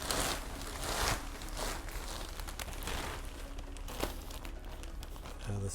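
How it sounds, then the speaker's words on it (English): A big plastic bag is handled and crinkled close by, with continuous rustling and crackling that swells in a few louder crumples and carries on without pause. "In this case, I'm just going to use a big plastic bag."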